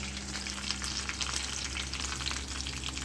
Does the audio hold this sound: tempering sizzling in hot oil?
yes